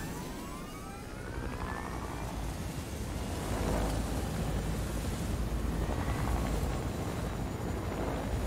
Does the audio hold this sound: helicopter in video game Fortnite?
yes